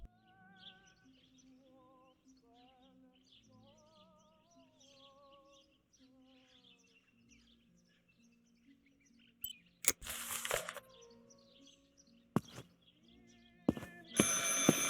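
A telephone rings in the video game Martha Is Dead, a repeating warbling electronic trill in short bursts over a quiet musical bed, followed by loud clattering handling noises near the end.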